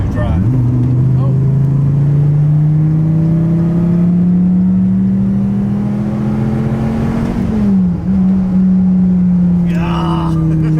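A 2014 Dodge Viper SRT track edition, its engine droning loud and close, pitch climbing steadily through a long pull before a brief gear change and renewed acceleration.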